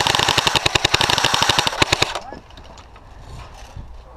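Two airsoft guns fire together at an outdoor airsoft field, a rapid burst of sharp, evenly spaced shots lasting about two seconds, close and loud, then the firing stops and only quiet ambient noise remains.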